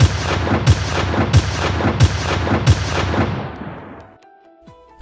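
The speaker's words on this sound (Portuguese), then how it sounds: "Atirou diversas vezes até que as balas acabassem." Pistol shots fired repeatedly, five sharp cracks at an even rhythm with a booming echo that fades into quiet after the last one.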